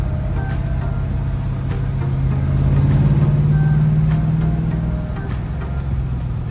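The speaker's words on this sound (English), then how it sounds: "That transmission really shifts nice and smooth, doesn't it?" A 1966 Pontiac GTO with a TKX manual transmission drives steadily, its engine a loud, continuous close drone that rises and falls smoothly through a gear change, with no talk over it.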